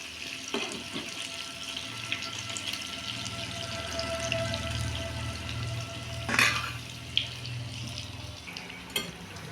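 Soybean and potato gram-flour fritters deep-fry in oil, giving a continuous close hiss and bubbling with a low steady hum underneath and a few brief clatters near the end.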